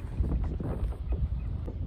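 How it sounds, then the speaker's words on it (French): Strong wind gusts against a small boat on a lily-covered lake, a heavy, continuous low rumble buffeting the microphone, loud and close, with no voices. "le vent souffle tellement fort qu'il me pousse"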